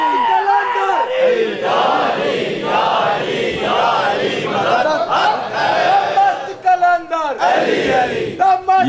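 A crowd at a Shia majlis gathering in Dera Ghazi Khan roars religious slogans in unison, loud surging shouts repeating in waves, with a leader's voice calling out between the responses near the end.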